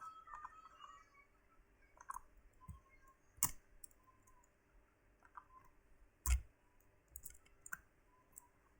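Quiet, sparse clicks from a computer keyboard sound in short bursts with gaps between them, plus a couple of sharper, louder key strikes, close and alone with no voices.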